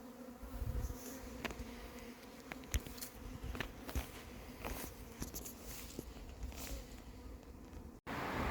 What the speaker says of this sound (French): les abeilles n'attaquent plus, j'ai l'impression